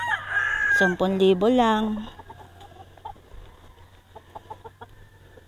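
Roosters at a Philippine game farm crow loudly and close up in the first two seconds, with a long strained cock-a-doodle-doo, followed by scattered clucks and distant crowing while someone speaks over steady background hum.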